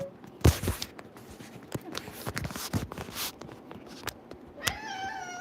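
A cat meows near the end after a stretch of footsteps, thumps and shuffling, with a person's voice briefly in the background.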